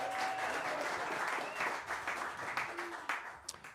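An audience applauds a saxophonist after a big band performance, a steady wash of clapping held at a moderate level from start to finish, with a few sharper claps standing out near the end.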